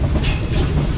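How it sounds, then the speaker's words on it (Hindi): The Tezgam passenger train pulls into Chichawatni railway station on the Multan to Lahore run with a steady, loud rumble and the rhythmic clatter of wheels on track, heard close from on board with no talk. "ठीक 11:15 बजे हमारी ट्रेन पहुंच रही है चीचावतनी रेलवे स्टेशन पर"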